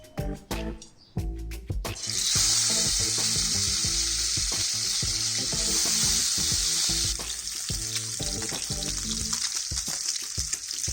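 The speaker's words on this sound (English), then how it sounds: "Let's begin with frying the fish." Rohu fish sizzles loudly in hot mustard oil, a steady bright crackle and hiss after a few clinks and knocks of a pan and utensils at the start.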